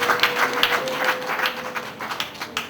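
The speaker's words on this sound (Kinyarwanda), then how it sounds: "Koma amashyi." Guests at a wedding ceremony applaud in scattered, irregular hand claps that go on for almost three seconds, with a faint steady tone underneath.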